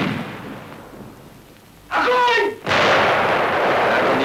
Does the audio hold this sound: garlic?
no